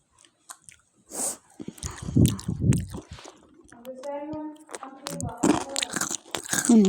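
Crunchy french fries bitten and chewed close up, sharp crisp crunches in bursts, mixed with a voice talking between bites.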